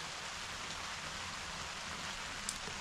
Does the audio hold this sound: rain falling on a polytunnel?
yes